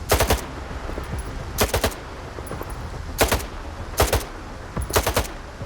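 Bursts of automatic gunfire in S.T.A.L.K.E.R. 2, five sharp volleys spaced about a second apart, loud and close, with no talk over them.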